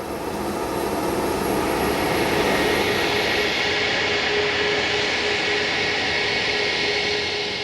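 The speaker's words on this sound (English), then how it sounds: "Air France's Paris-bound Concorde departure is already negotiating the web of complex taxiways at Kennedy" Air France Concorde jet engines running at JFK airport, a loud, steady roar with a high whine, heard from nearby and holding level throughout.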